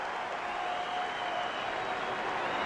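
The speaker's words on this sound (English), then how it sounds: "And there's the cheer from those in the crowd who bet the over." A boxing arena crowd at Oscar De La Hoya vs Javier Castillejo sends up a steady, distant roar of cheering and scattered clapping that fills the whole moment.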